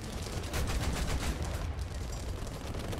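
Gunfire aimed at a heavy tank in the War Thunder tank battle game, a rapid burst of repeated shots with a steady rumble beneath, fairly quiet and without talk.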